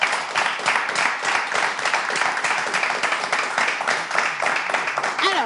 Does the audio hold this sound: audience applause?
yes